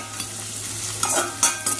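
Paneer with spices fries in a pan, a low continuous sizzle under several short scraping strokes of a spoon stirring close by, with no voices.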